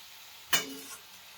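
Fenugreek leaves are stirred into hot oil for garlicky methi, giving one sudden loud sizzling scrape that fades over about half a second into a quieter background.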